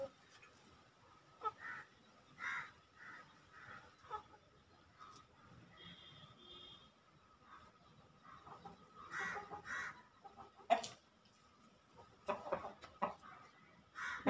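A flock of about ten chickens and roosters cluck and call in scattered, intermittent bursts, faint and somewhat distant, with quiet pauses between the calls.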